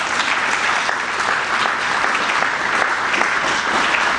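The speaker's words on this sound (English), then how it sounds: "Let's give George a nice round of applause" Steady applause from a political party gathering fills the whole stretch, dense clapping at an even level with no talking.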